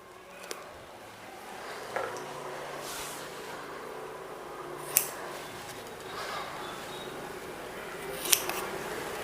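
Scissors snip a piece of one-inch microporous tape, giving a few sharp, separate clicks and cuts spread several seconds apart. Each one is close and fairly quiet against a soft background hiss.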